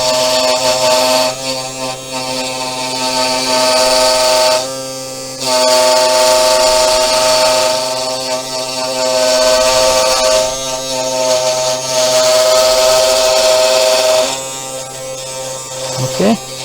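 A Sainsmart Genmitsu 4040 Pro CNC plunges a millimeter and cuts, its spindle giving a loud steady buzzing whine that briefly drops and returns several times as the cut moves, with talk over it.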